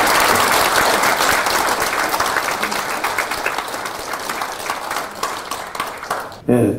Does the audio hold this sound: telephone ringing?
no